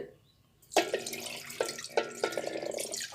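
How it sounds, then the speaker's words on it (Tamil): Soaking water drained from black kavuni rice after an overnight soak, a sudden splashing pour that begins after a quiet moment and continues as a close, steady trickle with small surges. "இதை நம்ம வந்து தண்ணியை ஃபுல்லாக வடித்து எடுத்துட்டு"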